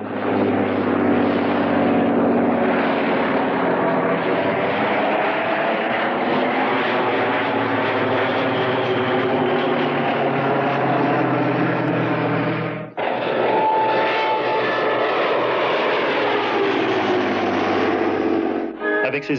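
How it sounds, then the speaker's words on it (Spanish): A Rolls-Royce Falcon 12-cylinder, 260-horsepower piston aircraft engine roars steadily and loudly at close range, its rumbling drone continuous with a brief dip partway through. "Escuchen el sonido de este Falcon 12 cilindros, 260 caballos."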